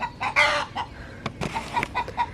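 A backyard hen named Coco clucks loudly right after laying an egg, a close series of sharp, irregular squawks and cackles with brief gaps between bursts.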